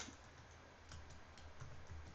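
Keys on a computer keyboard are typed in a short, quiet run of light clicks, irregularly spaced over about two seconds, with no voice present.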